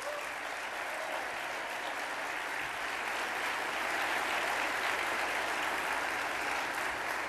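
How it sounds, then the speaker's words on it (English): Audience at a conference in Lake Buena Vista, Florida applauds the leadership team, a dense, even wash of clapping that holds steady throughout with no talking. "I would like to give our leadership team a round of applause,"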